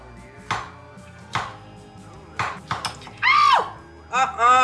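Knife chopping vegetables on a cutting board in a home kitchen, a few separate sharp chops at uneven spacing, near and loud, followed by a brief clink of dishes.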